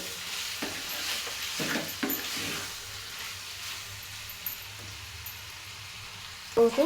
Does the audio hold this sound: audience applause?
no